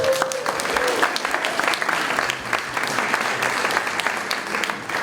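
A seated audience at an evening panel event applauds a panelist being introduced, steady dense clapping from many hands lasting the whole stretch, with faint murmurs mixed in beneath.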